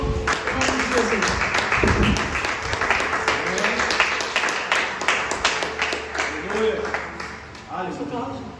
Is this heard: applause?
yes